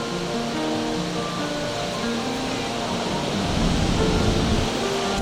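Victoria Falls roars as a broad, dense rushing noise that swells slightly toward the end, steady and close, with faint tonal hum in the background.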